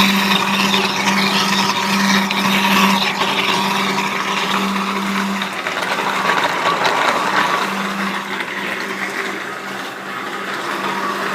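An electric grinder machine runs steadily, grinding onions into paste for gravy, a loud continuous motor whir with a constant tone that barely varies.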